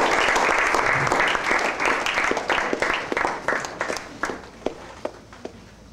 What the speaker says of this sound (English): please welcome him with big round of applause